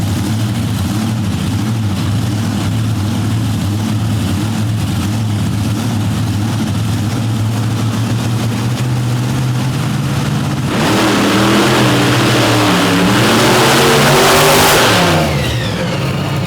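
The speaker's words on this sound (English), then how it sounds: "these are 4 very fast trucks on a very tight, very short course with plenty of shutdown" Four monster trucks racing on a tight, short dirt course, heavy engines roaring and revving steadily, then surging into a louder, rising bellow of acceleration near the end, with no talk over it.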